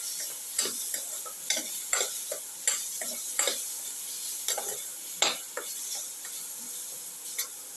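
Turmeric, chili powder and salt sauté in a hot pan, a soft continuous sizzle broken by regular scraping stirs and light taps of a spoon against the metal.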